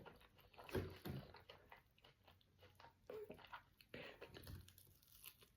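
Fried KFC chicken is chewed close to the mic, with soft bites, tearing and moist smacking in an irregular rhythm. The sounds are quiet, with occasional louder crunches.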